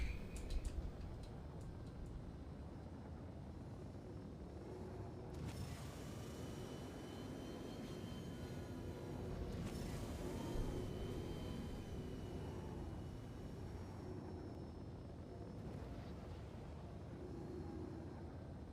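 Steady, loud engine roar of a spaceship flying at full throttle in Star Citizen, a continuous rushing drone that swells slightly partway through, with no voices.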